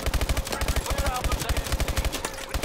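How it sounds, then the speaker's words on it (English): Rapid automatic gunfire from Call of Duty: Advanced Warfare, a steady stream of punchy shots in quick rhythm, loud and close, with no voices over it. "I'm gonna be here shooting them from this far direction."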